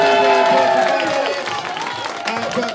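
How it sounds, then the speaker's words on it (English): An audience claps and cheers for a comedian at an Edinburgh Fringe comedy semi-final, a loud, dense wash of applause that slowly thins, with a voice talking over it. "Give him a huge round of applause."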